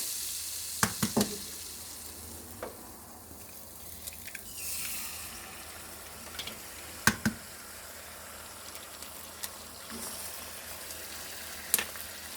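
Eggs cracked into oil in a pan with sucuk, sizzling and frying steadily with a soft crackling bed and a few sharp clicks and taps, no talk.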